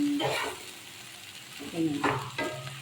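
Lumpia wrapped in lumpia wrapper sautéing in a pan, a soft sizzle with brief stirring scrapes and a nearby voice murmuring over the frying.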